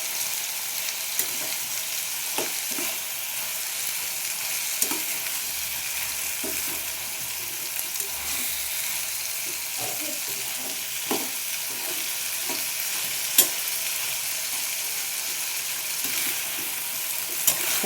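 Ridge gourd curry with tomato frying in a pan, a continuous even sizzle with occasional soft stirring scrapes and clicks, steady and close with no talking.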